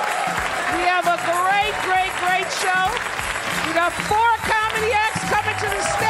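An audience at the Gotham Comedy Club in New York City claps and applauds continuously while a host speaks loudly over the noise.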